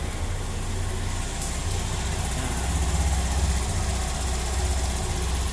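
A Honda Beat scooter's engine idles right after its CVT has been reassembled, a close, smooth, steady putter that swells slightly midway, with no talking.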